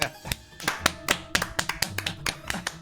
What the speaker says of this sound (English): Every single one of those were high fives.